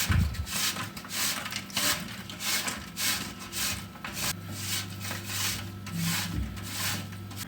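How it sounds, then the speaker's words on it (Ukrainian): Shortcrust pastry dough grated by hand on a grater over a parchment-lined baking sheet, a steady run of close, soft rasping strokes repeating in an even rhythm, with a low hum underneath. "лист ми натираємо на терці тісто, те, що було більший шматочок"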